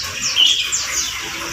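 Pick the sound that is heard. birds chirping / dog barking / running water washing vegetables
birds chirping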